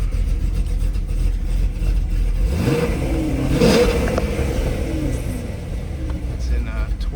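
C5 Corvette V8 with exhaust valves open, idling then revving up sharply and falling back, a loud close throaty roar rising and easing off over a steady idle.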